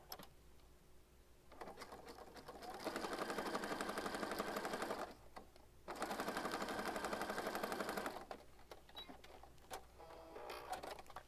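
A sewing machine stitches quickly across paper for a junk journal page, running in two steady bursts of about two and a half seconds each, separated by a short pause, with quieter handling noise before and after.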